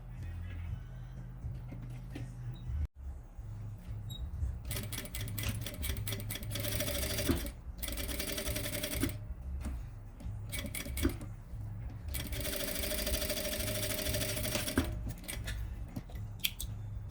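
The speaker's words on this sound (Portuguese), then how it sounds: "eu vou passar uma costura nas duas laterais" A sewing machine stitches along both sides of small fabric strips for a cosmetic bag, running in a fast, steady hum. It stops in several brief pauses and then starts again, close and clear.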